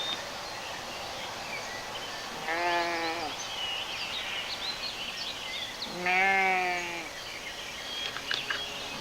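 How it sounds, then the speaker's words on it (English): A herd of mountain goats in a draw, heard as two distinct wavering bleats a few seconds apart, moderately near, over a quiet outdoor background with faint insect-like chirps. "There's a herd of mountain goats down there in that draw."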